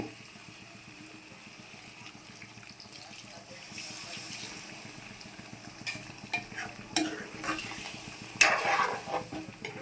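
Water added to a hot frying pan of stuffed eggplant curry splashes and bubbles, with spoon scrapes and stirring; activity grows louder and busier toward the end, with no talk.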